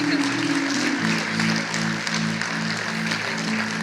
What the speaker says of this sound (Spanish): así por favor le damos un aplauso